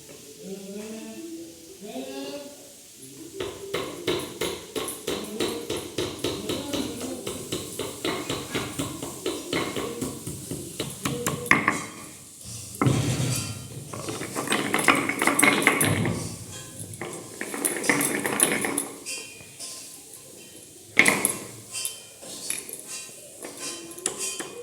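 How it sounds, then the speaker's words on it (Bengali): Green chillies ground into paste with a stone pestle on a grinding stone in a traditional Bengali kitchen, a rapid rhythmic knocking and scraping that runs in long bursts with short pauses. Someone speaks at the start. "লঙ্কা বেটে নেব।"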